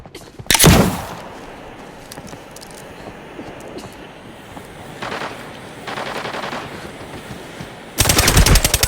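Automatic gunfire in the shooter game Arena Breakout, a loud close burst near the start, quieter distant rattles midway, and another loud sustained burst at the end.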